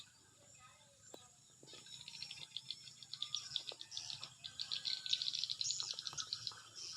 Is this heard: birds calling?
yes